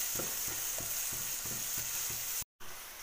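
Sliced onions sauté in a hot pan for green chilli chicken with a steady bright sizzle, and a spatula scrapes and stirs in a regular rhythm of about one stroke every third of a second; there is a brief break near the end.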